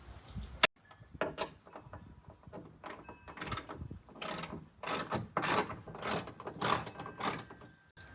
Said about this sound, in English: So before I prop the hood off, I'm gonna take this nut off all the way.